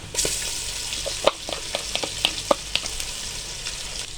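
Garlic ginger paste frying in a pan with golden brown onions, a steady close sizzle broken by irregular sharp pops and crackles, with no talking.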